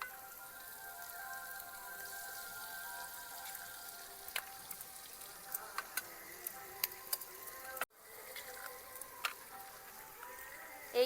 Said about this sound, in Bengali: এইবার ডিমটাকে এরকম ভাবে রান্না করে নেব, ভাজা ভাজা করে নেব